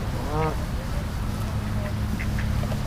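Ducks near a pond on Long Island give a short quack and a few faint calls, mixed into loud background noise while a person talks nearby.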